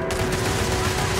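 Dense, continuous gunfire in a shootout with pirates in the space video game Starfield, a loud unbroken barrage filling the whole moment.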